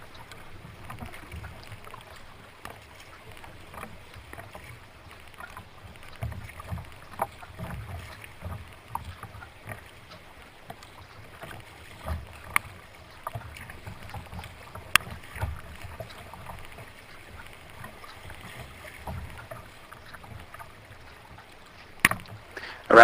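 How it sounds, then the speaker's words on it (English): Sea kayak paddling upstream through a tide race off the Farne Islands, with steady water wash and wind rumble, irregular paddle splashes and a few sharp knocks, moderately loud and close throughout. "now paddling upstream through the first of the tide races of the day"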